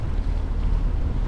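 A sailboat's engine idles steadily at anchor near rocks off Isla Isabel, Mexico, a continuous low rumble mixed with wind buffeting the microphone and faint water, with no talk.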